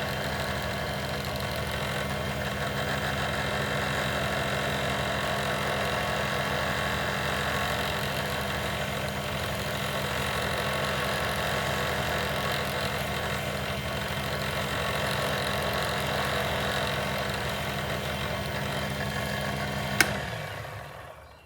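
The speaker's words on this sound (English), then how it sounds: "I am using a lathe, and it only goes up so high." A wood lathe running steadily at its top speed while a click pen blank is turned and polished, giving a continuous motor hum with a constant tone throughout and a single sharp click near the end, with no voices.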